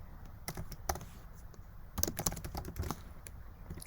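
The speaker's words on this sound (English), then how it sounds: "sorry about my typing" Typing on a computer keyboard, with bursts of quick key clicks and pauses between them, close and fairly quiet, no talking.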